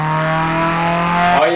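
A Peugeot 106 GTI in a driving game revs hard with a loud, steady engine whine held at high pitch, then drops sharply near the end, as if shifting gear.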